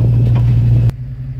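Pickup truck creeping forward with its trailer brakes engaged, a steady low engine rumble and faint hum that drops off sharply near the end.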